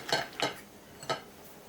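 A spoon knocks against a bowl while stirring cream for a coconut cake, three separate clinks close up, with quiet pauses between them.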